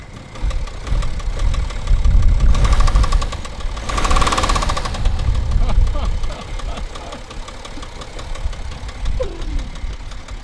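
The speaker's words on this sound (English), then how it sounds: "It sounds terrible. Let's give it a rev though." Worn used car engine that is burning oil, idling roughly with a knocking rattle, then revved loudly for a couple of seconds before settling back to a rough idle, with a voice talking over it.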